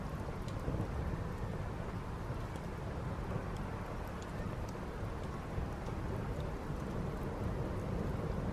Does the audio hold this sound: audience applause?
no